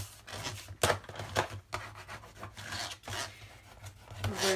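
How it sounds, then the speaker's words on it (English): A mini album page's paper edges are burnished by hand, producing close, soft scraping and rubbing strokes in an uneven rhythm, with several sharper taps among them. "Burnish the sides."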